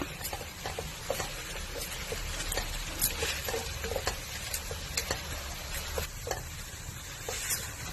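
Steady sizzling of spices frying in a hot pan for mutton kurma, with occasional stirring scrapes and ticks throughout; no talking.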